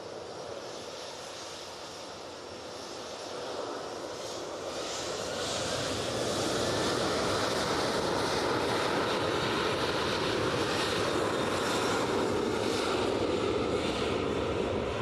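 A Ryanair airliner's jet engines roar at Manchester Airport, a broad, steady rumbling whoosh that swells in the first few seconds and then holds loud and sustained, with no talking.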